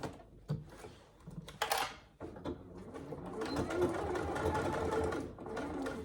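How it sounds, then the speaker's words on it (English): A sewing machine stitches the exterior body of a wash bag with a 3/8-inch seam allowance. A few handling clicks come first, then a steady, close whirring run that holds to the end. "I'm going to sew this part at a 3/8 of an inch seam allowance."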